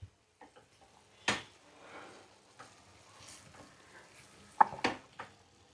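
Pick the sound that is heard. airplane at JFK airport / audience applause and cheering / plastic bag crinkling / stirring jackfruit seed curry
stirring jackfruit seed curry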